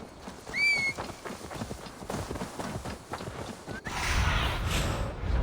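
Horse hooves clip-clopping in the video game Assassin's Creed Valhalla, a steady run of soft thuds with a brief whinny near the start and a louder burst of movement toward the end.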